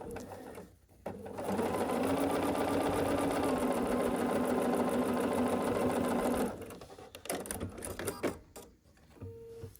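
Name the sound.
sewing machine stitching quilt block square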